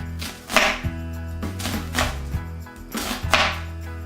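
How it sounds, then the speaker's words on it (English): A knife slices an onion into half-moon wedges on a cutting board, with about four crisp chopping strokes in an uneven rhythm, close and fairly loud. "I'm gonna cut little half-moon wedges of onion"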